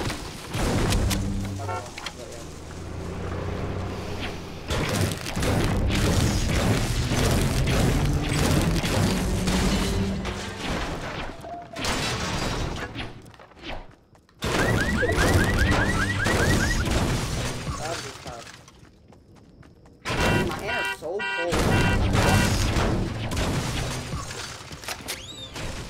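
Booty bombs going off in a video game, repeated heavy booms and crashing bursts in dense clusters separated by brief drops, loud throughout with game music and effects underneath.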